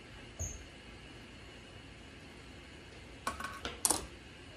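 Vanilla bean sticks drop into a container, a few light clicks and taps clustered near the end after a quiet stretch with one soft knock early on.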